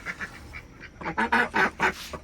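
Ducks at a backyard duck coop built from an altered box shed, giving a short run of honking quacks that grow louder and closer after a quiet start, with faint softer calls in the background.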